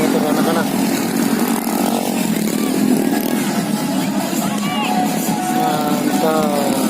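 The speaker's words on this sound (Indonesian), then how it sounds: "Nah, ini adalah motor-motor anak-anak." Children's toy ride-on motorbikes buzzing around a busy square at night, a continuous whiny motor drone amid crowd chatter and people talking nearby.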